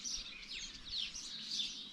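Small birds chirp in spring along a countryside riverside, a few quick high tweets repeating over a soft steady background, faint and somewhat distant.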